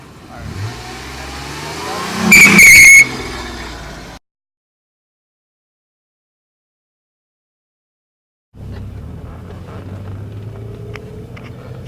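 A car engine revs hard in first gear with a sharp high squeal from spinning tires, then the sound cuts to silence before a lower, steady engine drone resumes.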